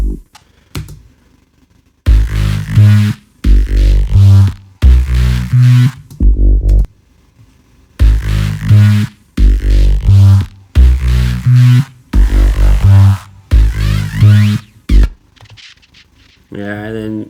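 Synth bass in an electronic track, where harmonics and distortion are being added, plays in short, punchy, rhythmic bursts separated by brief silences, loud and alone.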